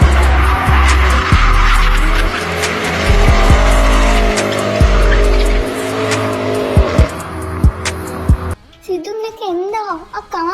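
A car speeds hard with loud, drawn-out tire squeals and skidding, engine roaring close and prominent, then cuts out to quiet voices talking afterward.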